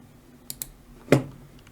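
A single firm click of the Enter key on a computer keyboard, preceded by two faint lighter taps, in a quiet room.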